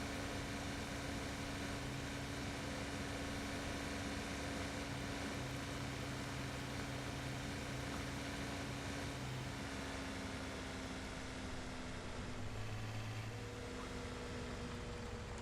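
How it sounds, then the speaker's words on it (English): A tractor engine in Farming Simulator 17, on the Estancia Lapacho farm map, drones loud and steady without a break, with a constant low hum and a slight rise in pitch toward the end. "Oh, this engine."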